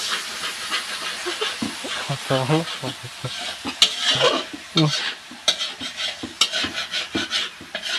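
Masala frying and being stirred in a pan in a home kitchen, with continuous hiss and sizzle broken by repeated scraping strokes of the spoon, close and steady for several seconds.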